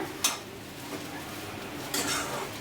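Banana fry mixed in a pan: two clear clinks of a utensil against the pan, one near the start and one near the end, over a quiet background.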